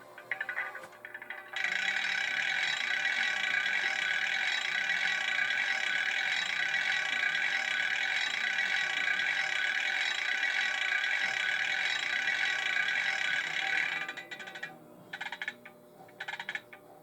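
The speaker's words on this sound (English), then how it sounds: "14 is the handbrake." Handbrake on an Atlas U23B locomotive, CSX #7764, ratcheting in a simulator: a steady dense mechanical clatter runs for about twelve seconds, then breaks into a few short bursts before stopping.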